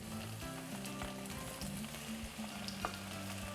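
Onions and tomatillos sizzle steadily in a pan for a Mexican salsa, a soft, even frying hiss with occasional small pops and faint stirring clinks, quiet and without talk.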